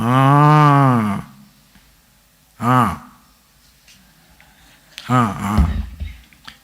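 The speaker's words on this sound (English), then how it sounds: "there a cow out here somewhere? I thought I heard one." A cow moos three times, a long low call followed by two shorter ones, loud and close, with quiet pauses between.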